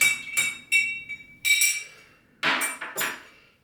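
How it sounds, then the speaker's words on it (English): A bar spoon stirring a Negroni in a glass with ice, giving a few separate bright clinks and rattles in short bursts with pauses between them, close and clear, with no talking. "I'm going to stir this too"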